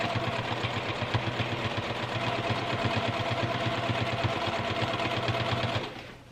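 A sewing machine runs steadily, stitching a quilt block with rapid even needle pulses for several seconds, close and loud, before stopping abruptly near the end.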